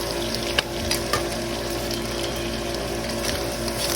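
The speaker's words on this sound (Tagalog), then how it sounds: "Sangkutsay na natin sa sibuyas at bawang para manuot yung mga aromatics." Garlic and onion sauté with meat in a pan, giving a steady close sizzle and frying hiss with a few sharp clicks of stirring.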